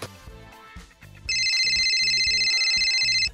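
A phone ringtone starts after a second and trills steadily for about two seconds over quiet background music, with nobody answering.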